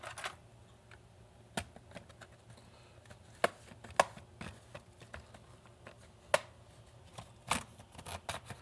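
Sparse plastic clicks and snaps as the bottom case of a gaming laptop that went pop is carefully pried open, sharp isolated ticks at irregular intervals over a quiet background, with no talking.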